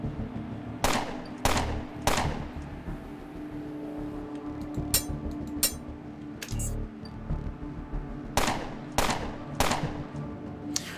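An auto turret fires in the video game Underrail, with sharp bursts of gunfire cracking out in clusters near the start and end and a few scattered shots in between, over a low droning game ambience.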